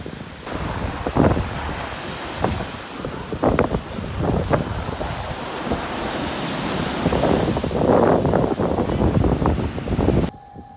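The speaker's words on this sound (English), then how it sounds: "check out these huge waves" Large ocean waves crash and roar on a beach at Long Beach Island, with heavy wind buffeting the microphone throughout.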